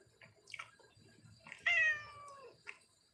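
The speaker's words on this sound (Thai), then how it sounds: "แมวทำไมแมวทำไมแมวอย่ายุ่ง แมวกินปลาทูไป" A cat meows close by in a short series of calls. One long, drawn-out meow stands out among shorter ones, with quiet rustling in between.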